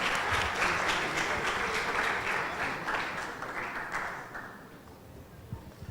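An audience at an opening lecture breaks into lively clapping that holds strong for a few seconds, then thins and fades toward the end.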